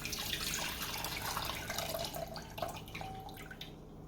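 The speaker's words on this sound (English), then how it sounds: "she took these pickles and she poured the juice off into a bowl." Pickle juice drained from a jar into a bowl, trickling and dripping steadily like a small tap running into a sink, fairly close and alone without talk.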